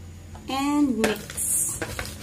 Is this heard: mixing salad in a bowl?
yes